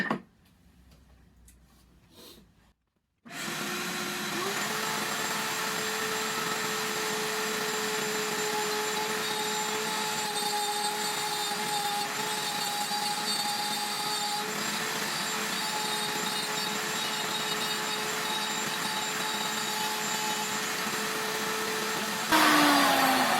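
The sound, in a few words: router cutting grooves in wood for box joints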